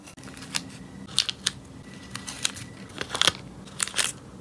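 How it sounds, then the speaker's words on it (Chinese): A blade cuts washi tape for a journal in a series of crisp, close snips and small crunches, scattered irregularly over a quiet background with no talk. "没有离心纸本，直接在胶带上切割。"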